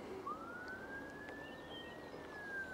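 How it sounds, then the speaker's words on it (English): A police siren wails faintly in the distance across open coastal marshland near a boardwalk between Brancaster and Wells-next-the-Sea, a single long rising and falling tone under quiet outdoor ambience. "there's a police siren and a pheasant"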